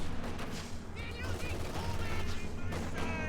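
Conscripts firing rifles at a Pak anti-tank gun in Company of Heroes 2 while capturing a victory point: dense, continuous small-arms gunfire blends with battle noise and commentary voices throughout.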